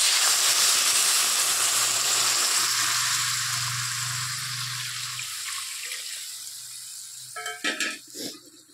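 Water pours into a hot cooking pot, a loud hissing rush with a low bubbling tone that gradually fades, followed by a few clattering knocks near the end.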